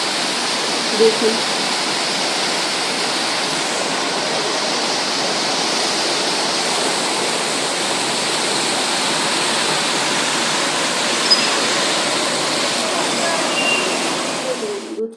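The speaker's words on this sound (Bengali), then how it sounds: "আর এই দুপুর টাইমে ঝমঝমিয়ে বৃষ্টি হচ্ছে" Heavy midday rain pours down steadily at a home in monsoon weather, a dense, even broadband hiss that holds for the whole stretch, with a brief spoken word near the start.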